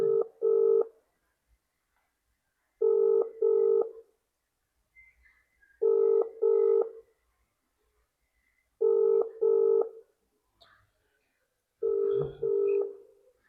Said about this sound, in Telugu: రింగ్ అవుతుంది కానీ ఇంకెవరు ఎత్తలేదు